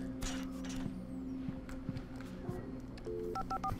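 Telephone keypad tones in the Alan Wake video game: a short run of pitched dialing beeps near the end, rising clearly over a low ambient hum with faint footsteps and creaks.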